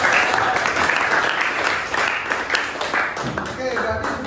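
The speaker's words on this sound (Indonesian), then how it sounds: "tepuk tangan untuk kelas 6" A primary school class of sixth graders claps and applauds together in a classroom, a steady, fairly loud burst of many hands with a teacher's voice speaking over it.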